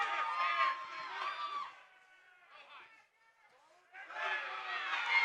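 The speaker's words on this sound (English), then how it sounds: "Crowd wanting some more action." Restless crowd noise at a combat-sports fight night, a dense murmur of shouts and chatter that swells, drops away briefly to a quieter stretch, then surges back loud near the end.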